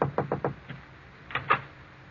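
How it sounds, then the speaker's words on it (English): Knocking on a wooden door in an old radio drama: a quick run of three raps, a lighter fourth, then after a pause two more knocks, close and distinct with no voices. "there is a knock at Lucia's door"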